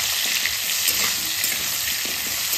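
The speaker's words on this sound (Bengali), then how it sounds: "তেলটা গরম হয়ে গেছে, আমি প্রথমে আলু রসুন দিয়েছি, এগুলোকে আমি ভেজে নেব।" Potatoes and garlic frying in hot oil with turmeric and salt, a loud, dense, continuous close-up sizzle with faint stirring underneath.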